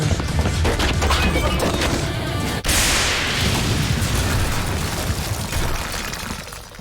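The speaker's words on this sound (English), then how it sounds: "Is that a fucking grenade?" A grenade blast in the video game Judgment inside a club: a sudden loud boom over ongoing crashing, shattering chaos, then a long noisy rumbling decay.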